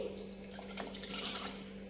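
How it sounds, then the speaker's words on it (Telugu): Water poured into jaggery to melt it for sweet rice pudding, a short close trickle and splash with small drips, heard alone. "కొంచెం వాటర్ వేసి"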